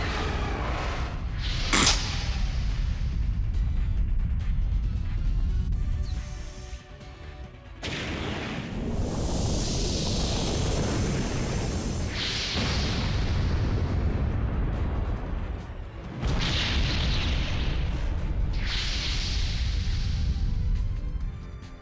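An ultimate magic attack in Legend of Dragoon detonates as a string of heavy booming blasts with rumbling, roaring swells and sharp bursts, loud and continuous.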